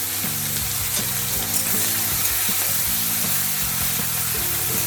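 Green chillies and tomato fry in a pan with a steady, close sizzle that runs without pause throughout, alongside low background hum.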